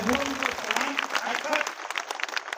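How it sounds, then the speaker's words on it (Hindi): A crowd claps at a political rally in Chhattisgarh while a voice speaks over the applause, which thins into scattered claps toward the end. "इस बात के लिए भी जोरदार ताली"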